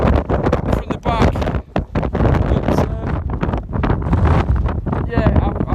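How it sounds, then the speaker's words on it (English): Strong, gusting wind buffets the microphone on open moorland on Great Hill, Anglezarke Moors, as a loud, continuous roar with brief dips. "there's that much wind flattening it from the back"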